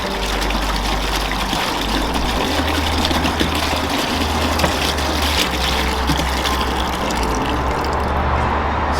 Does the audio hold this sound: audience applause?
no